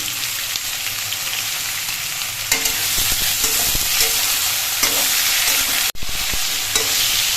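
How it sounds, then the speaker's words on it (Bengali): Salted vegetables stir-fried in oil for a light khoira fish dish, giving a loud, continuous close sizzle with stirring scrapes and a brief break near the end. "এবার সবজিগুলো বেশ কিছুক্ষণ ভেজে নিতে হবে"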